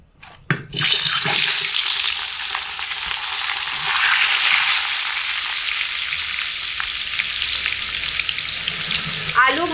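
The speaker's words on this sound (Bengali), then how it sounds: "আলুগুলো তেলের মধ্যে দিয়ে লাল লাল করে ভেজে নেবো" Cut potato pieces drop into hot oil with a couple of sharp knocks, then a loud, steady, hissing sizzle fills the rest.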